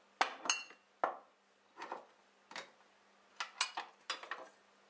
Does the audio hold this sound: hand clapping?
no